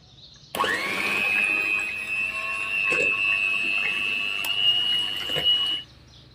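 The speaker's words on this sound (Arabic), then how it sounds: "استعمل زي ما انتوا عارفين مضرب كهربائي" An electric hand mixer beating cake batter whirs steadily for about five seconds with a high motor whine, beaters knocking occasionally against the bowl, then switches off.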